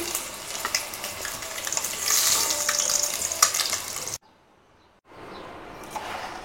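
Boiled eggs fry in oil, sizzling loudly and steadily for several seconds, then cutting to near silence before a softer hiss returns.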